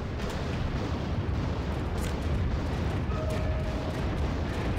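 A nuclear strike detonating in the real-time strategy game Act of Aggression, heard as a sustained, loud, rumbling roar of blast noise that fills the whole stretch without clear separate impacts.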